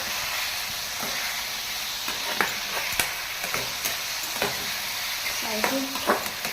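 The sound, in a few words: sautéing masala with turmeric and salt in a pan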